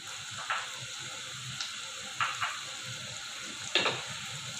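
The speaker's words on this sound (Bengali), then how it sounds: "এটা গরম হয়ে এসছে। আমি এর মধ্যে এখন পেঁয়াজ কুচিটা দিয়ে দিচ্ছি। সাথে কাঁচা মরিচটা দিয়ে দিয়েছি।" Chopped onion and green chilli frying in hot soybean oil, a steady close sizzle and hiss with several light clicks and scrapes of stirring scattered throughout.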